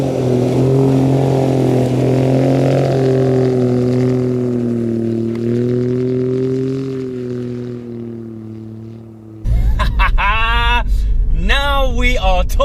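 An Alfa Romeo Giulia Quadrifoglio engine hums with a strong steady tone while driving, easing off toward the end before a person starts talking loudly nearby.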